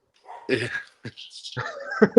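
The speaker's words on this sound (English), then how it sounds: "My dog just started barking because someone's at the door." A dog gives a few short, yipping barks and whimpers indoors at someone arriving at the door, close and fairly loud, mixed with a person talking.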